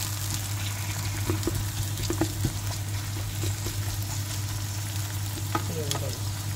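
Garlic and onion frying in a pan give a steady, close sizzle that runs the whole time, with a few light stirring clinks over it.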